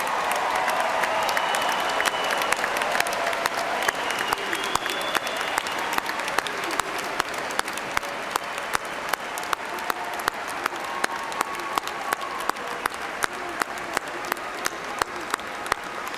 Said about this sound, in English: let us recognize with a hearty round of applause Eastern Kentucky University's newest graduates, the class of 2017